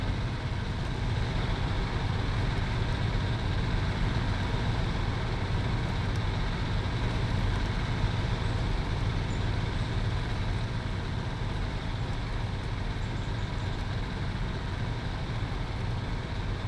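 Mercedes-Benz Unimog U4023 truck in SnowRunner, fitted with a snorkel and heading into deep mud, gives a steady, loud engine rumble that holds unchanged throughout with no voices.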